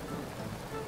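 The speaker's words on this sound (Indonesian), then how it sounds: "Sore hari, hujan belum juga berhenti." Steady rain falls on an afternoon with flooded streets, making a dense, even, close patter with no breaks and no voices.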